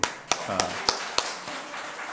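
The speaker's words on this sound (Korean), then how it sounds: "강민이 우소리도 박수." A handful of distinct, slow claps in a church congregation during a Sunday service, spaced about a third of a second apart and fairly close, with a soft voice underneath.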